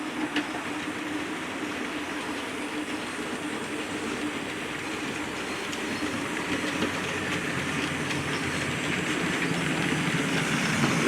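Freight train X1915 from Long Meg to Widnes rolls past Dent station, a steady rumbling roar of wagons with faint clickety-clack that swells louder toward the end.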